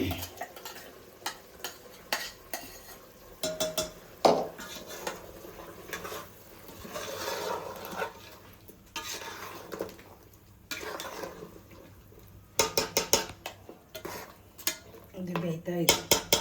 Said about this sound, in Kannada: ಮಸಾಲ ಮಿಕ್ಸ್ ಮಾಡೋಣ